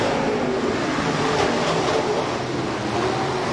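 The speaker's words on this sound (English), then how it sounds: "Early in this 3rd and final heat race, Dave Kennedy, your race leader." B-Modified race cars roar around the dirt oval at Rapid Speedway during a heat race, a dense, loud, continuous engine drone with no breaks and no talking.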